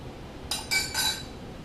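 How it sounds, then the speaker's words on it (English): Spoon scraped clean against a bowl while mixing vegan tortilla dough, three quick bright metallic scrapes in a row, close and fairly faint over quiet room background. "Get all the stuff off the spoon."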